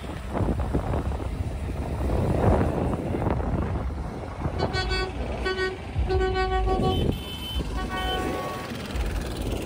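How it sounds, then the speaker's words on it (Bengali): An auto rickshaw horn honks in a few short tonal blasts over steady traffic and engine rumble, close by, on a road near Shillong. "অটোটা আমাকে হর্ন বাজিয়ে হাত দেখিয়ে গেল"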